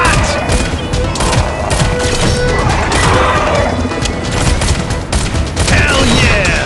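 Loud, dense gunfire from the shooter video game Shadowgun Legends, pistol shots cracking amid crashes and impacts in a continuous chaotic barrage, with occasional voice over the top.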